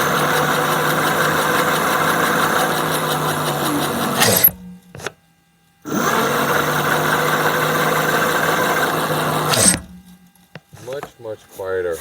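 Lectric XP 3.0 electric bike hub motor running with a steady, loud mechanical whir and whine, stopping briefly twice before spinning up again, close to the listener.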